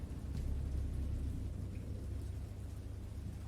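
Thunderstorm with a steady, heavy low rumble of rolling thunder and a constant wash of rain, loud and continuous throughout with no voices.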